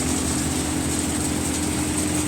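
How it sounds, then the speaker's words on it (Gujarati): A tractor driving a Param thresher from Visnagar runs at a steady idle of about 1000 rpm with no load, a continuous low droning hum without changes in pitch or load. "ટેક્ટરના આરપીએમ એક હજાર આરપીએમ રાખેલા છે અને બિલકુલ પણ લોડ ફ્રી ટ્રેક્ટર ચાલે છે"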